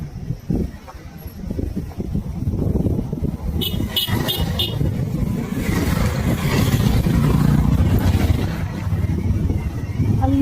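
A motorcycle rides along a road in Ghorepatan, Nepal. Its mid-pitched engine drones steadily and fairly close for the whole stretch, with faint voices now and then.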